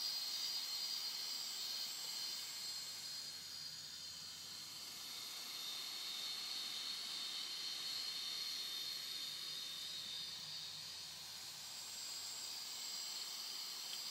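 Salvaged hard drive spindle motor on a speed control spinning fast, giving a steady high-pitched whine with an airy hiss that stays constant throughout, close and moderately quiet with no talking.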